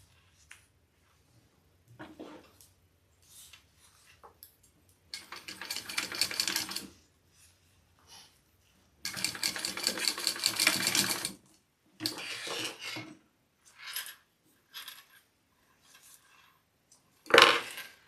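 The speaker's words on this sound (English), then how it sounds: "now I'm going to sew that at my full seam allowance" A home sewing machine stitching a seam at full seam allowance on a small fabric project, running in several short bursts with two longer runs, close and fairly loud, with quiet pauses and fabric handling between.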